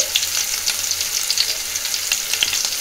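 Onion, chilli, cumin seeds and mustard seeds fry in hot oil in a pan, a steady close sizzle with scattered crackles and pops throughout and no talking.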